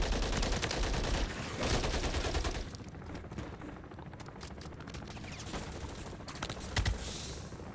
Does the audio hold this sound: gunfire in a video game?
yes